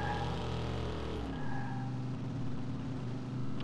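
A car driven in the video game Watch Dogs: a moderate engine drone whose pitch drops and shifts partway through, then holds steady.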